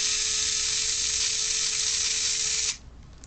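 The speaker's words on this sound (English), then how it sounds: "I am going to put it in the vacuum chamber and try my best to get all the bubbles out" A vacuum chamber degassing resin to draw out bubbles gives a loud, steady hiss with a faint underlying whine, running evenly and then cutting abruptly to a quieter hum near the end.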